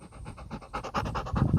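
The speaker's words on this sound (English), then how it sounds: "As you can hear a dog breathing, Jake, breathe." A dog in a blue harness pants close by, a steady run of quick rhythmic breaths growing slightly louder toward the end, with no talking.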